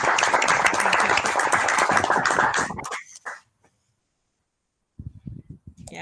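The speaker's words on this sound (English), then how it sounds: "Applause, yes." Clapping at a school board meeting, steady for about three seconds before stopping abruptly, followed by near silence and then a few scattered sounds.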